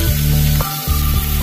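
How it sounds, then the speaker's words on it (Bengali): Cut potatoes hit hot oil with dried red chillies and sizzle loudly up close, with a brief dip and then a sharp fizzing surge. "এবারে আলুটাকে ভেজে নিচ্ছি"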